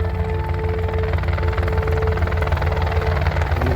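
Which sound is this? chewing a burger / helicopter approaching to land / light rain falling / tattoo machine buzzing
helicopter approaching to land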